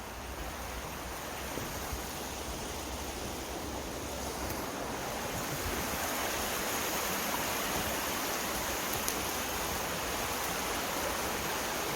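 Steady broadband rush of a waterfall at the Nanoose rest area in British Columbia, a continuous even roar of falling water without talk.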